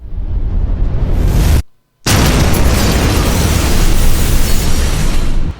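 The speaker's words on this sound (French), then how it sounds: "une sorte de reverse de l'explosion" A reversed explosion effect: a dense, roaring burst of noise swells up and cuts off sharply, then after a short silence a second loud, sustained rumbling roar fills the rest, alone and close.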